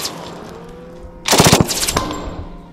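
A Thompson submachine gun chambered in .45 ACP fires a loud, rapid automatic burst of roughly six shots, followed by a couple of echoing shots and reverberation tailing off.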